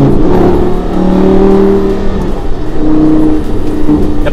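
Lamborghini Gallardo LP550-2 engine accelerating under throttle, a loud, close, steady engine drone with a rising pitch, then a brief dip and a climb again.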